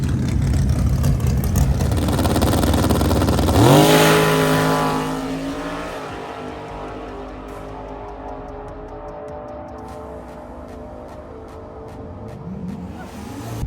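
A naturally aspirated drag race car launches hard and screams through its gears down the strip, loud and rising pitch with quick shifts, then fades into the distance as the run finishes.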